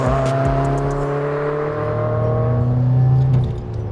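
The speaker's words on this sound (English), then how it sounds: "the AWE Track Edition exhaust on my WRX now, and I have to say this thing is definitely the more rowdy and more fun exhaust" A Subaru WRX fitted with an AWE Track Edition cat-back exhaust drones loudly and close-up with a deep, steady engine note, its pitch climbing slightly as it pulls, then easing off near the end.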